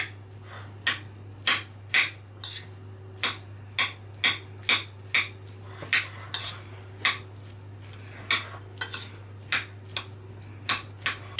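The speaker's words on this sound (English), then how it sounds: "just mix everything in like this and kind of chop as you're going along" Utensil chopping through a broccoli, cheddar and potato filling in a bowl while mixing: a long run of steady, crisp taps and knocks, close and moderately loud, over a constant low hum, with no talking.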